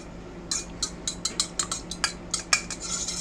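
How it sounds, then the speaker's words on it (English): Eggs stirred with an old fork in a small bowl, beaten like scrambled eggs for meatloaf: a quick run of a dozen light, bright metal clinks and scrapes against the bowl, close and steady, with no talking. "give them a quick stir here. with our old fork."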